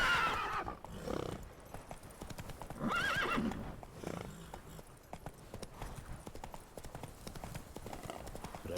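Roach, a horse in a video game, canters through a town with rhythmic clip-clop hoofbeats and an occasional neigh, mixed with ambient game sounds and faint talk in the background.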